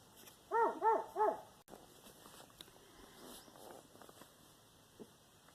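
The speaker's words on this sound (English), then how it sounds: "there's my dog barking at the poor young boy" A dog barks at a young boy beside a parked camper van, three quick loud barks close by, then a quieter stretch of faint scattered noise.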